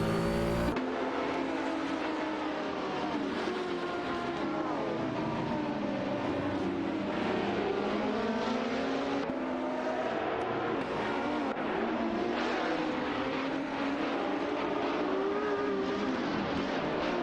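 Racing game engines of a Ferrari 512S and a Porsche 917, high revving race car notes rising and falling through gear changes, loud and continuous with overlapping cars.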